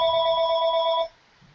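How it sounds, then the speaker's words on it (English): A telephone rings with a loud electronic tone that holds for about a second, then cuts off into near silence. "Sorry for the phone call."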